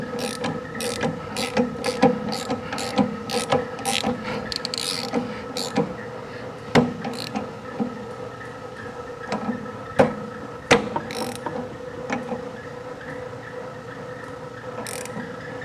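A ratchet with a 19 mm socket works on a 1970 VW Beetle's 1915cc dual-carb engine, giving rapid clicking pawl runs in bursts with occasional knocks and clinks, close up amid a faint mechanical background hum.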